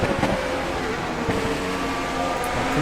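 A racing car engine drones steadily as it rounds the Parabolica at Monza in a racing video game, a continuous close mechanical hum with no speech.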